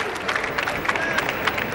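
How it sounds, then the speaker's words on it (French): Spectators applaud during a 2007 triples pétanque world championship match in Thailand: a short burst of dense, steady clapping from a crowd, heard with some ambient hall noise. "Il les mérite, les applaudissements, Nanou."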